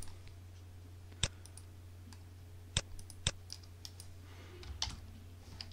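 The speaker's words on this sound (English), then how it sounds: "Double click X2Go client" Sharp mouse clicks sound while the X2Go client is opened on a Windows computer. Two are close together, and several fainter ticks follow over a steady low hum.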